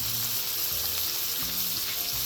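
Vegetables with capsicum stir-frying in a pan for veg fried rice, a dense continuous sizzle with tonal scraping from the spatula throughout.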